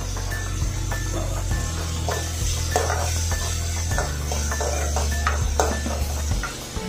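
Onions sautéing in a ladleful of oil for a drumstick leaf and green lentil poriyal, a steady close sizzle with repeated spoon stirring and scraping against the pan throughout.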